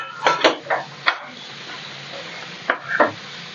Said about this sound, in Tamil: ஈரலும் மண்ணீரலும் ஒன்றா போட்டு அப்படியே வறுக்கிறோமா